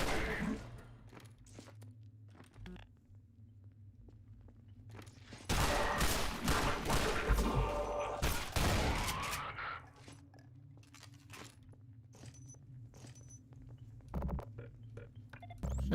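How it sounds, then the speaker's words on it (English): Gunfire in the Half-Life 2 mod Entropy: Zero 2 breaks out as a loud burst of rapid shots and clatter lasting several seconds, set between quieter stretches of footsteps, ambient hum and a few isolated pops. "See, he heard the gunshot and he fired at"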